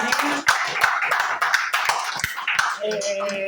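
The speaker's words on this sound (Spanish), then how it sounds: "Un fuerte aplauso para Rafa." Applause after a music and poetry performance, heard as a short burst of loud, fairly sparse clapping from a small audience that is already thinning out by the end.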